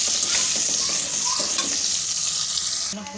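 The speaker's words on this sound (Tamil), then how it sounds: "வெங்காயம் ஒரு ரெண்டு மூணு நிமிஷத்துக்கு வதக்கிக்கலாம்" Sliced onions sauté in a hot pan with a steady bright sizzle and occasional stirring scrapes, close up and continuous with no talk.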